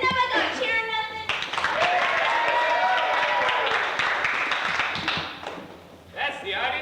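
Audience applause at a 1992 Lutheran High School stage production of Oklahoma: a dense wash of clapping swells for several seconds, with voices speaking before it and again as it fades.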